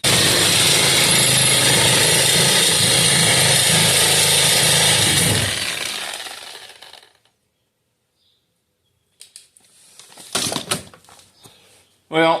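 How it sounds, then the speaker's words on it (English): A Sawzall reciprocating saw cuts metal during an AWD body swap on a 1968 Charger, giving a loud, steady, buzzing cut for about six seconds that fades out. Silence follows, then a few brief clanks and rustles. "I think that Sawzall blade has had it"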